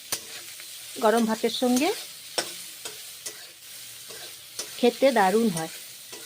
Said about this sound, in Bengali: তারপর হলুদ দিচ্ছি, নুন দিচ্ছি, ভেজে নিচ্ছি।